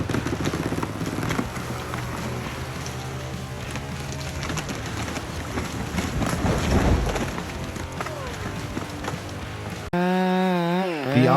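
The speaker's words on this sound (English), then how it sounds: "As the blade makes contact with the tree trunk, the chain starts slicing through, sending sawdust flying." Up close, a chainsaw cuts through a thick tree trunk with a continuous loud buzzing roar that rises and strains as the chain bites into the wood, ending in an abrupt cut to a different sound.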